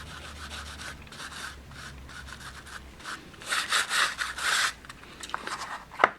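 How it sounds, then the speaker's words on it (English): Rubbing material by hand into the surface of model roof tiles, a soft scratchy scrubbing in short bursts, with a few louder rubbing strokes toward the end and no talking. "the main thing you want to do is just rub it into the tiles"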